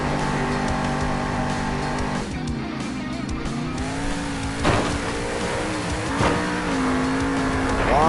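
A monster truck in a Monster Jam arena in Salt Lake City roars loudly, its engine pitch rising and falling through repeated revs with harsh bursts, continuous throughout and up close.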